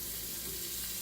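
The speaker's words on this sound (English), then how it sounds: "Just want to fry them enough so that the mushrooms are cooked" Mushrooms fry in a pot for a cheesesteak, a soft, even sizzle and crackle holding steady and close throughout.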